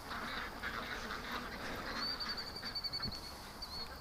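Ducks quack amid a steady outdoor background hiss, the calls soft and moderately distant, coming in a cluster of short honking bursts toward the end, with no speech over them.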